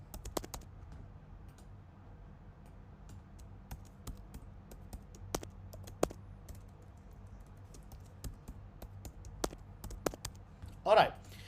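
A password is typed on a computer keyboard as a series of light, scattered key clicks, fairly close and quiet, with a brief murmur of speech near the end.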